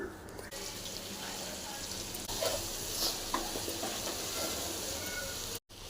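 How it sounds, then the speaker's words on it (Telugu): Spoon stirring a mixed vegetable curry in a pan right after coriander powder goes in, a steady close scraping and sizzling hiss over a continuous background, without any talking. "ఒక స్పూన్ ధనియాల పొడి వేసుకొని కలుపుకోవాలి"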